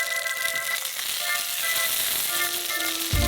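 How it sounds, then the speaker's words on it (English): Sausage frying in a frying pan, a constant hissing sizzle filling the whole stretch, close and fairly loud with faint tonal clinks in the background. "we put this on the frying pan to fry"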